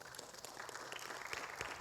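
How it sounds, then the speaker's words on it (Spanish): A church congregation applauds, a faint, distant patter of many hands with a muffled, low-level wash of clapping throughout the short moment and no clear speech. "Denle un fuerte aplauso al Señor"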